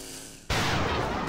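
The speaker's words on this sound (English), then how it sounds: "Let's try a little precision shot on the purifier" A precision shot fired at a purifier in XCOM Long War of the Chosen: near-silence, then at once a loud, sharp gunshot blast that rings on with a sustained rumbling tail, no voices.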